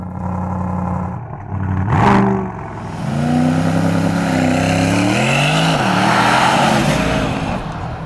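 An Aston Martin DBX707 SUV accelerates hard, its engine note climbing loudly through a rising, roaring sweep with a brief gear-change dip, heard close and alone.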